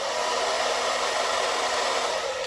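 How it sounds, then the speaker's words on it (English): A hair dryer blowing on craft foam runs close and loud with a steady whooshing whir and a faint motor hum, unbroken from start to finish with no voices. "I want to blow dry this just a little bit."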